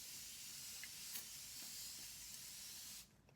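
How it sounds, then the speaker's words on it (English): Evian mineral water spray hisses steadily from a can onto skin for about three seconds, a close, even mist that cuts off abruptly. "I have this Evian mineral spray that's supposed to be hydrating and moisturizing."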